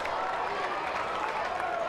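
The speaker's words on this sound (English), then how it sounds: "This Carolina crowd coming alive." Baseball crowd at a Wake Forest versus North Carolina game, cheering and applauding in a dense, steady roar for the full two seconds, with no single voice standing out.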